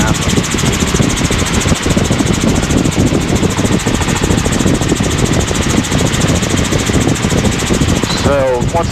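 A helicopter engine drones loud and unbroken in flight near Cocoa Beach during a low approach, a steady close mechanical roar with a voice briefly over it near the end.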